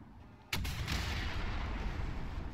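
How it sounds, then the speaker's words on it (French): A turret fires in the video game Wolfenstein The New Order, opening with a sharp blast after a quiet half-second and rolling into sustained, loud, heavy gunfire with no voices present. "Te calme la tourelle, ça suffit."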